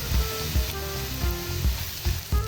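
Chopped tomatoes land in hot oil with browned spices for a Kerala mackerel chili curry, giving a steady, close sizzle punctuated by soft, regular thumps of stirring in the pan.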